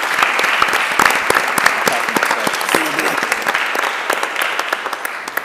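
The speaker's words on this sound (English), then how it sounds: "it is okay to clap after each candidate" An audience at a town candidates' debate applauds loudly and steadily after a candidate finishes, dense clapping holding for several seconds before gradually thinning.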